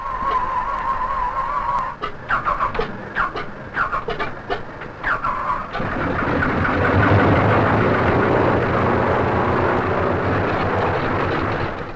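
A 1944 aircraft engine on the ground, overprimed and catching fire, roars into a loud, steady run after a few seconds of sputtering, uneven bursts, then holds a dense, continuous drone to the end.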